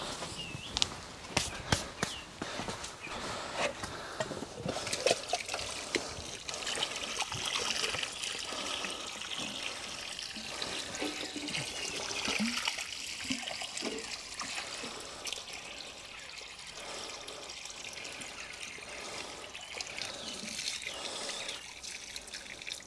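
Water trickling and dribbling into a small watering trough dug around a melon plant in a garden bed, a soft, continuous faint splashing with occasional footsteps and rustling nearby.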